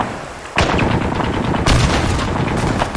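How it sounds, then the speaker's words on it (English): In Arma 3, a grenade goes off inside a warehouse: a sudden loud blast bursts in about half a second in, followed by a second heavy crack, with dense rumbling debris and gunfire-like noise filling the rest. "Let's bounce a grenade in."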